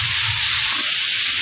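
Fried potatoes tipped into a sizzling pan of oil with cumin, chilli and coriander powder for a bottle gourd curry, giving a steady, loud, close hiss and crackle with no voices.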